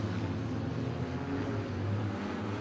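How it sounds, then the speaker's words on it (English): Wingless sprint cars in a feature race, a steady loud engine drone with low harmonic bands holding throughout, the pack of racing engines sounding somewhat distant and continuous. "And this is a wingless sprint feature race."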